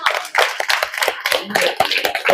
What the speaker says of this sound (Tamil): அவருக்கு ஒரு கை தட்டுங்க